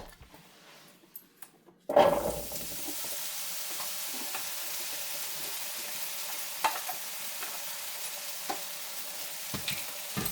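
Potatoes tipped into a skillet of hot oil for a sausage, cabbage and onion dinner burst into a loud sudden sizzle, then a steady frying hiss with occasional light stirring clicks.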